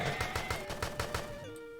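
Rifle fire from the player's weapon in a shooter video game: about seven quick, evenly spaced shots in a close, punchy burst over music, then a tonal ring-out as the firing stops.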